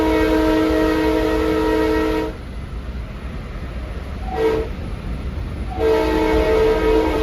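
A loud, sustained multi-tone Long Island Rail Road commuter train horn blares close by near Farmingdale Station, pauses with rumbling rail noise and a short toot, then sounds again.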